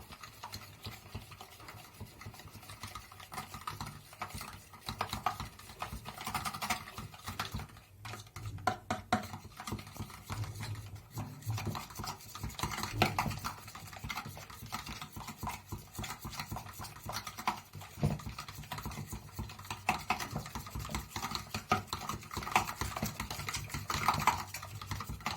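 Crepe batter with sugar is mixed in a bowl, a rapid, continuous clicking and scraping of the utensil against the bowl that runs steadily throughout, with no talking.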